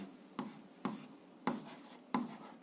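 Hand writing during a physics lesson, heard as four separate, fairly faint tapping strokes of a pen or chalk at a slow, irregular pace, with no voice over them.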